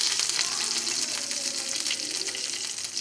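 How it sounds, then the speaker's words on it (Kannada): Mustard seeds, curry leaves and onion frying in hot oil in a pan, giving a steady, dense sizzle with faint crackle that holds close and loud throughout, no voices. "ಹಾಕ್ಕೊಂಡು ಫ್ರೈ ಮಾಡ್ಕೊಳ್ಳೋಣ."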